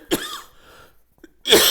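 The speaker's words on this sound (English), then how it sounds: "I apologize for the coughing" A lecturer coughs once sharply near the start, then again in a louder burst toward the end, with a quiet room between.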